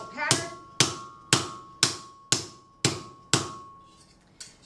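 Seven sharp, evenly spaced blows from a dead blow hammer flatten a patterned steel plate on an anvil, each thud ringing briefly before fading, with a softer final tap, close and clear.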